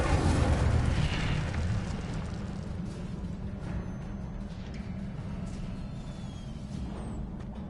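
An Incendio fire spell goes off in a Harry Potter video game: a loud roaring burst at the start that eases into a sustained, rumbling fiery wash.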